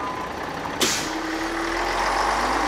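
A city bus hisses with a sharp air-brake burst, then idles and pulls away with a low engine rumble and a steady tonal whine, heard fairly close with no talk.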